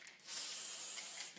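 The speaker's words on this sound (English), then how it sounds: "I'm just trying not to spray on top of the ones I've already done." A spray paint can sprays red chalk paint onto wooden bunting in one steady, close hiss lasting about a second, with no talk.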